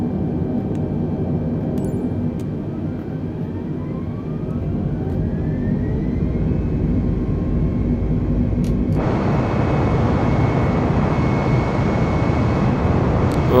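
An airliner in a flight simulator game powers up for takeoff on runway 27, a steady loud engine roar that swells and brightens partway through as thrust increases, continuous throughout.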